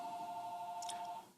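A phone rings faintly in the background with a steady electronic tone that trails off at the end, heard alone without speech.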